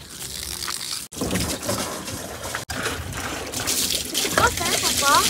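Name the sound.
water running from a tap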